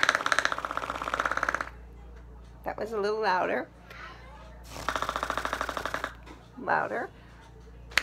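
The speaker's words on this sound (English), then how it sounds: "You can make wet ones or dry ones, depending on the placement of the straw into your armpit." Armpit fart noises made by blowing through a straw tucked into an armpit: two raspy, buzzing bursts of about a second each, with a person speaking briefly between and after them.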